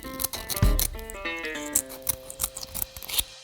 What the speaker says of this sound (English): This is a quail egg. We open it up and cut off the film.